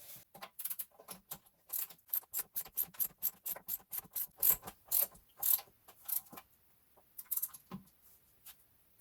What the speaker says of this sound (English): I'm simply going to torque them to 100 Newton meters because they're already stretched